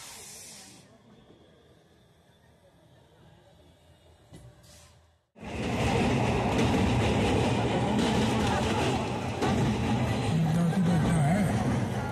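Prayagraj to Howrah special train 03024 running, a quiet hiss that cuts to near silence before a loud, sustained rumbling roar of carriage noise takes over, with voices faintly mixed in.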